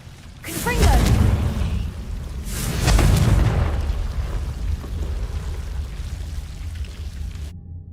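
Confringo explosive spell in Hogwarts Legacy: two heavy, booming blasts about two seconds apart, each with a rumbling low-end tail that lingers and slowly dies away, loud and close.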